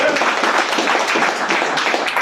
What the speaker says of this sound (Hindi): ताली मारिए